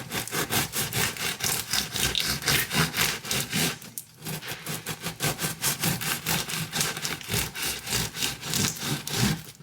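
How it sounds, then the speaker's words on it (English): Knife sawing through a loaf of homemade sourdough bread, rapid back-and-forth rasping strokes in a steady rhythm, close and clear, with a brief pause midway. "here's my loaf of sourdough bread that I baked this morning. So I'll slice that"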